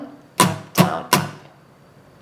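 Three quick strums on an acoustic guitar, a down, down, up, down, up pattern, sharp and close, fading into a short ring with no voice.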